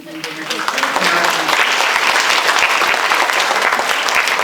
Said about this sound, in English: Next, y'all can clap.